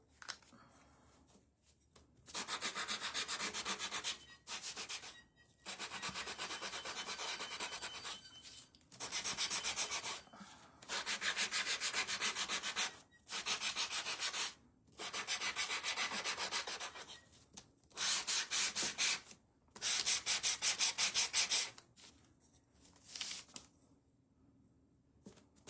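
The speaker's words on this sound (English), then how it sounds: "Makes a world of difference when you have a new piece of sandpaper." A craft piece being rubbed with a fresh sheet of sandpaper, about ten close, steady scratchy sanding strokes of a second or two each, separated by brief pauses, with no speech.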